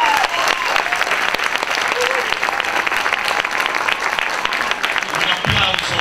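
Sustained applause from a theatre audience at a concert by Moroccan and international musicians, steady and dense for about six seconds with a few voices faintly audible.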